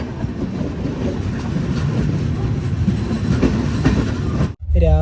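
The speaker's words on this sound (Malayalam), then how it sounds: "ഗുവാഹത്തി NJP എക്സ്പ്രസ് ആണ് ഈ കാണുന്നത്" The Guwahati NJP Express rumbles past close by, its wheels keeping up a continuous clickety-clack and roar that cuts off abruptly near the end.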